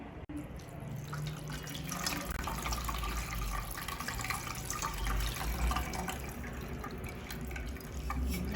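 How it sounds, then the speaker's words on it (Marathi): A steady, close rush of cold water pours and splashes continuously over cooked noodles for several seconds, with no talking. "याच्यावर थंड पाणी घालून घ्यायचं आहे"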